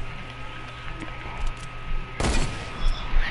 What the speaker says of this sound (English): Suppressed and hunter rifle, my only guns I use right now.